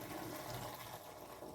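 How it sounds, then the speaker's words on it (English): Milky rice-rinsing water is tipped out of a pot, a steady close pouring and splashing rush that runs continuously with no voices. "Then what I'll do is I will tip this water out"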